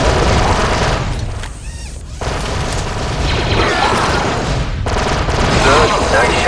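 Blaster and rifle fire rings out in the video game Star Wars: Republic Commando, loud rapid bursts and booming impacts with a short lull partway through, while squad voices call out over the battle.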